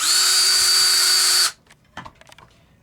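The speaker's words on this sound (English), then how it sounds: "put my drill bit in the hole, and then hopefully the drill bit won't wander around" A power drill whines loudly and steadily for about a second and a half while drilling a hole in a metal blank, then stops abruptly, leaving faint clicks and handling noises.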